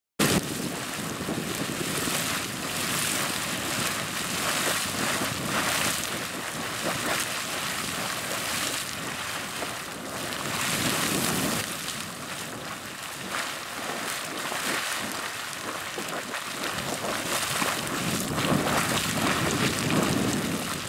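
Big Anemone Geyser draining after an eruption, a steady broadband rush and gurgle of water running off, continuous and fairly loud for about twenty seconds with wind buffeting the microphone throughout.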